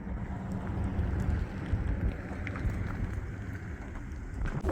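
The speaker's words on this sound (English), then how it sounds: "it is way too cold and windy" Cold wind gusting outdoors at a historic fort stop, a steady low rumble buffeting the microphone with broadband roar, fairly constant with slight swells and no voices.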